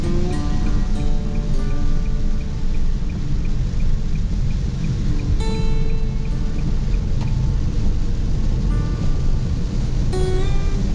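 Heavy rain drums steadily and loudly on a vehicle during a drive along a Sumatran highway, a dense, continuous hiss and patter with scattered sharper drop hits and no pauses.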